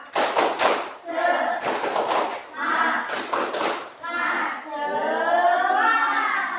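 Group of children in a classroom clapping the Indonesian 'tepuk semangat' rhythm in a quick pattern, several bursts of claps alternating with shouted chanting voices.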